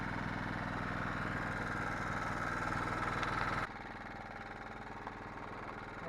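A riding mower engine drones steadily at a mid-pitched idle on a woods trail, loud and close, then drops abruptly to a quieter, lower hum partway through.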